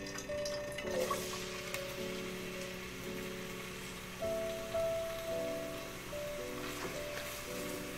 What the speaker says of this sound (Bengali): এটাকে আমি হালকা ব্রাউন করে ভেজে নিব